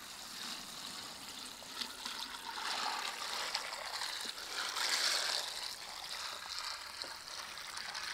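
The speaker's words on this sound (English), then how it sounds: "So I'm going to pour this whole 20 liter bucket in." Water from a 20-litre bucket rushes and trickles steadily for several seconds, a continuous splashing pour with faint gurgling underneath.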